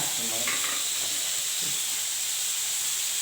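Spinach greens sauté in a pan after salt is added. A steady, even sizzling hiss holds close by throughout, with no voices.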